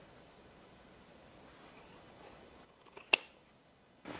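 Scissors trim the stitched fabric seam allowance on a clutch being made into an evening bag, giving a faint rustle and then a single sharp snip near the end, close and quiet with no talk.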